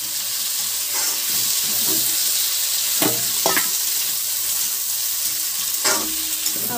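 Pea peels cooking in a pan with potatoes, a close, even sizzle with a few short stirring scrapes, heard alone.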